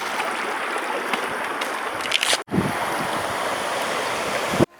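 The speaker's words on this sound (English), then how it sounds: "In the past there was a road and now it's a river." Fast mountain river pouring over an old washed-out road in the Carpathians in winter, a loud, steady close-up rush of water that drops out briefly midway, then returns.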